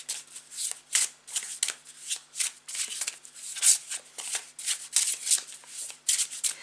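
A deck of tarot cards being shuffled by hand, a close, crisp run of rapid riffling bursts in an uneven rhythm lasting several seconds, with no speech.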